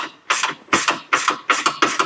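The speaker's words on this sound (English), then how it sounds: "you can go the whole way with your ratcheting wrench if you want to, just like that" Ratcheting wrench loosening strut nuts on a 2011-15 Ford Explorer or Edge, giving a rapid close clicking ratchet in about five quick strokes, loud and alone.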